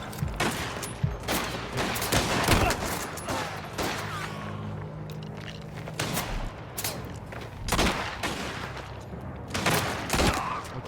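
Gunfire in the Mafia: The Old Country video game, with dense repeated sharp shots in irregular bursts and quick volleys over a low rumbling backdrop, loud and close.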